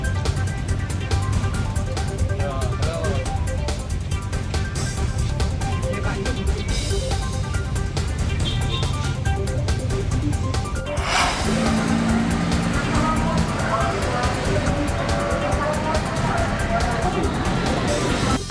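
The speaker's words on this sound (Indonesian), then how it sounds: "Antrean mobil di SPBU hingga ke jalan raya." A queue of cars at an SPBU petrol station in Tulang Bawang, Lampung, backed up onto the main road during a diesel and Pertalite shortage: steady engine rumble and passing traffic, loud and continuous under a narrator's voice.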